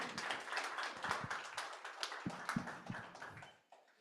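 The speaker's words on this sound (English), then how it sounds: "Let's give a warm round of applause for Canary." Light audience applause at a tech sprint event, a thin patter of claps and taps at moderate distance that fades out toward the end.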